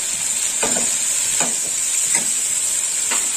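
Spice paste and tomato frying in oil, the oil already separating, give off a loud, steady sizzle with four evenly spaced stirring scrapes over about three seconds.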